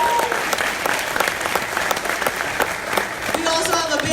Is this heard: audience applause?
yes